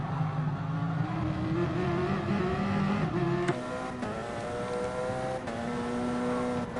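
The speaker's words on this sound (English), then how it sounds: "The difference in sound from those two engines are just profound." Race car engines in GT Sport during an endurance race at Catalunya, a steady layered drone of two engines with harmonic whine, shifting pitch around the midpoint as cars run close together, continuous and moderately loud.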